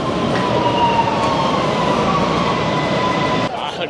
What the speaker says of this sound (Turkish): Evet, metromuz geldi.